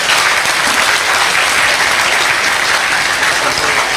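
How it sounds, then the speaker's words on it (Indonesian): A large audience at a religious talk breaks into steady, loud applause, a dense and even wash of many hands clapping that keeps going without a break for the whole stretch. "tepuk tangan untuk Allah Subhanahu wa taala."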